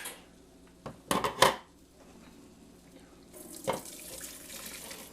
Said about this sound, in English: we're going to strain the soup a couple times